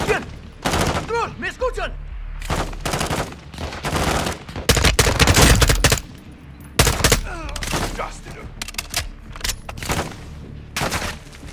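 Rapid bursts of gunfire from the video game Modern Warfare 2 (2022) crack loudly and close in repeated volleys, with short pauses between and a voice talking briefly in between.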